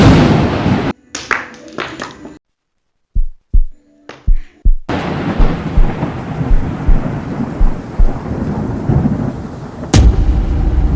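A hailstorm sound effect with thunder: a dense, loud pattering rush broken by rumbling booms. It starts after a few sharp, separate knocks and a brief silence.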